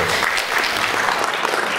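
Audience applause at a 2018 Russian film festival screening and awards ceremony: a dense, steady wash of many hands clapping, loud and continuous through the brief stretch.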